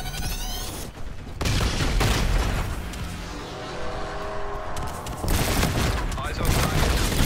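Sustained, dense gunfire from a gun run in Call of Duty: Infinite Warfare team deathmatch, loud and roaring with rolling bursts and booms, mixed with game radio chatter.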